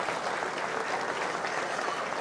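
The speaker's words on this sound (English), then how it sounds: "One more big round of applause for all these exhibitors." Crowd applause for exhibitors at a 4-H county fair swine show, a steady, dense patter of many hands clapping at an even level, with faint voices underneath.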